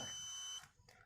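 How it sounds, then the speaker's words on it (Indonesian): Automatic scarecrow triggered by a PIR motion sensor, its buzzer sounding a steady high electronic tone alongside a small dynamo motor whirring, loud and continuous for about half a second before cutting off, followed by a brief faint rustle. "membuat buzzer serta dinamo akan berputar"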